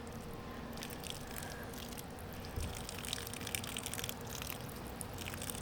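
Water trickles and gurgles into the soil of a potted mini bonsai, with soft dripping and squishing sounds, quiet and continuous with a few brief splashes.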